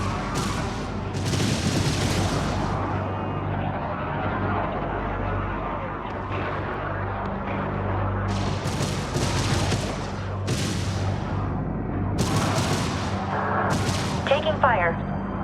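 Spaceship weapons fire in the space strategy game Homeworld 3, a dense, continuous barrage of booming volleys and rapid bursts, with a constant low engine hum underneath.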